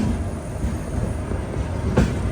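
A delayed mail train rolls into Ernakulam Town station with a steady low rumble of wheels on the track, heard from on board, with a brief brighter rattle near the end.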